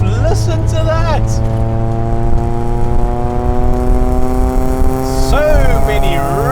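A VW Citi Golf 1.8i, the Mk1 Golf sold in South Africa, runs its 1.8-litre engine loudly up close, with a sharp rev surge at the start and another near the end over a steady drone.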